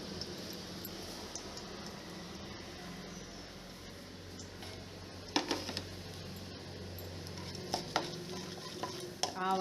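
Mustard seeds crackle in hot oil with dried red chili for tempering a South Indian curry, a quiet steady sizzle broken by scattered sharp pops and spatters toward the end.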